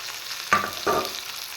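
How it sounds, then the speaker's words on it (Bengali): A brief sizzle of turmeric, chili powder and chopped garlic frying in a pan, with two quick stirring scrapes over a soft, steady hiss; no voices. "এবার আরেকটু ফ্রাই করব"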